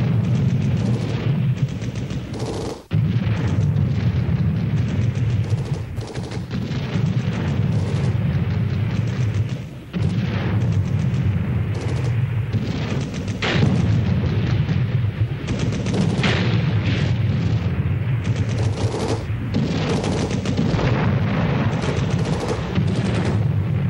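North Vietnamese artillery fire and explosions, heavy booms and rumbling blasts repeating irregularly over a dense, continuous roar of battle, loud and sustained.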